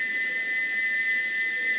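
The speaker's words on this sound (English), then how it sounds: "he wouldn't stop whistling until two fitters climbed up and knocked his whistle valve in place" A single sustained, high-pitched steam locomotive whistle, stuck open by a faulty whistle valve, holds a steady tone against a faint hissing background, unbroken throughout.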